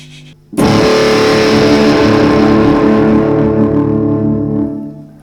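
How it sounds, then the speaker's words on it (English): A heavily distorted electric guitar chord, dialed in for a drone song, rings out suddenly after a short quiet moment, loud and sustained with a thick saturated tone, then slowly fades near the end. "my distortion tone session that you just saw"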